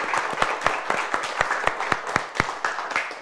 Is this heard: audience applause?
yes